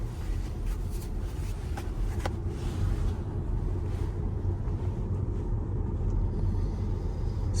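Steady tire roar and low road rumble fill the cabin of a Tesla Model Y at speed, a constant broadband hiss with faint wind noise and no talking.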